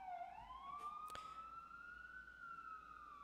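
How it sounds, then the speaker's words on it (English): Police car siren wailing outside, a steady rising-and-holding tone that stays loud and continuous throughout, with a brief sharp knock near the middle. "As soon as this siren quiets down."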